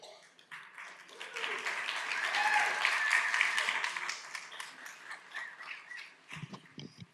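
Conference audience at a New Jersey bike and walk summit plenary gives a round of applause for a commissioner, clapping swelling to a full peak in the middle, then thinning out to scattered claps near the end.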